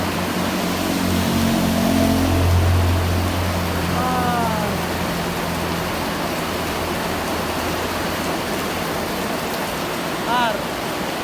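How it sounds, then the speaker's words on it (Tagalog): Heavy downpour at a grill restaurant in Caloocan East, a steady, loud broadband roar of rain that fills the whole stretch, with a few faint, brief chirping tones rising above it. "habang umuulan ng malakas"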